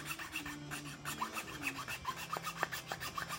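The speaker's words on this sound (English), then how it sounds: "Just sit here and file some of that off." A hand file rasps against a Greek briar tobacco pipe being shaped, giving quiet, close, rhythmic back-and-forth strokes that repeat steadily with no talk.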